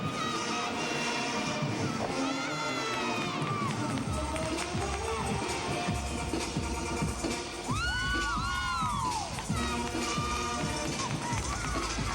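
Arena crowd at a 2008 LSU at Georgia NCAA women's gymnastics meet, a broad continuous roar with swelling cheers and whistles, heard under a commentator's voice and a run of thumping landings.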